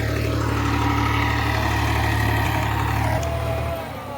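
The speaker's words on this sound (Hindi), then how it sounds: "तो ट्रैक्टर निकल गया जी बाहर खेत से" Tractor driving out of a farm field freshly sown with wheat after a rice crop, a loud, close engine drone holding steady, then easing off near the end.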